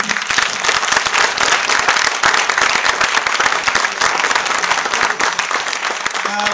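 Loud, sustained applause from an audience at a political gathering, dense and unbroken for several seconds with a few voices mixed into the clapping.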